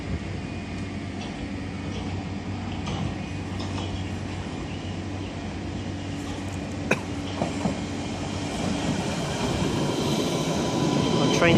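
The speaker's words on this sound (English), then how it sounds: "My train is here" A steady low rumble of a London Underground train in a station, growing louder toward the end as it arrives, with a few faint knocks and a cough.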